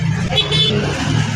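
Car horns honk briefly over a dense rumble of engines in stalled traffic, a couple of short toots standing out close by against the steady road noise.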